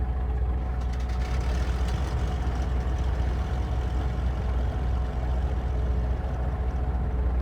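A simulated Cessna 414A twin piston engine runs at a steady idle after start, with a constant low rumble and drone that holds at even loudness throughout.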